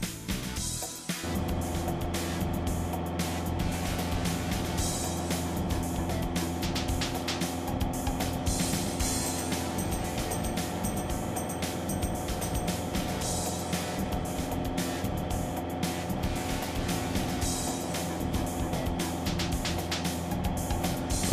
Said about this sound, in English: Give it full throttle. Get this thing off the ground.